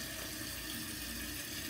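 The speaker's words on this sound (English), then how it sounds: "the water flows through that hole right there under the flapper into the bowl, and the pressure pushes it down and the toilet flushes" Water rushes steadily from a toilet tank through the flapper opening into the bowl during a flush, a continuous close hiss that stays even throughout with no voices.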